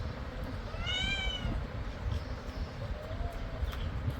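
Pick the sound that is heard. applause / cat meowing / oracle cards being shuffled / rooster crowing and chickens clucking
cat meowing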